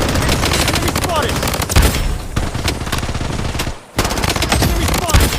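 Rapid, loud automatic machine gun fire from an AK rifle in the shooter game Blood Strike, in sustained bursts with a brief pause near the four-second mark.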